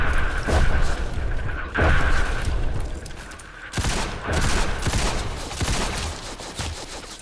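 Battlefield gunfire and explosions in the Roblox war game Entrenched: heavy booming blasts and bursts of rifle and machine-gun fire roll in uneven waves, loud and close, with no talking.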